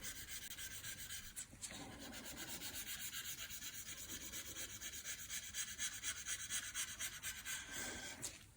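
Hand sanding a patterned Damascus steel kitchen knife blade (N690 and 440C) with 1000 and 2000 grit wet sandpaper wrapped on a wooden block, using a pink polishing fluid, a continuous close rasping rub in steady strokes.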